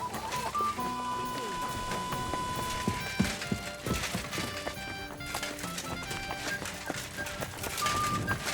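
Horse hooves clip-clop in Kingdom Come Deliverance 2, a steady close trot with a brief whinny, mixed with game voices and light background music.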